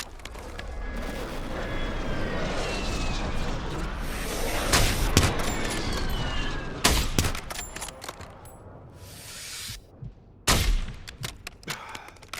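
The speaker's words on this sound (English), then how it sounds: "Enemy airstrike in the area." Airstrike in Call of Duty: Warzone, a sustained roar of fire with heavy booms and sharp blasts cutting through, then scattered loud bangs near the end, no speech.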